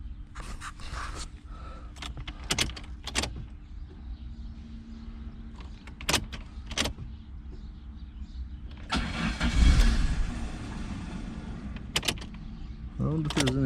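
A car engine being cranked, with scattered clicks and door or latch clunks and then a grinding starter-like roar of a few seconds midway, with brief speech at points.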